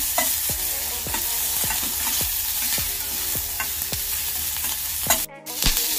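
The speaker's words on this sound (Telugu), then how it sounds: "ఫ్రై చేయాలి. కొద్దిసేపు ఫ్రై చేస్తే సరిపోతుంది." Dry red chillies, cumin and curry leaves fry in a pan with a steady close sizzle, while a utensil stirs and scrapes in regular strokes and briefly drops out near the end.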